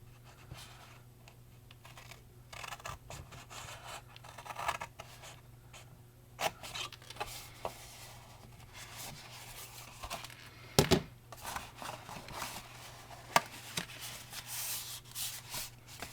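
Quiet, close paper sounds while a paper lid is cut for a snack cracker box: scattered snips, rustles and crinkles at an irregular pace, with a few sharper clicks.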